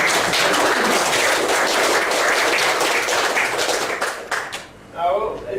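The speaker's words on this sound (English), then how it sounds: "I feel like I need to give a round of applause because it's just fantastic" Round of applause for workshop presenters, many hands clapping steadily and densely for about four seconds before fading out into quiet.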